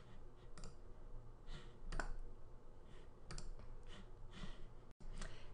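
A computer mouse is clicked at a desk, giving several light, sparse clicks spaced unevenly over a faint background hiss, with no talk.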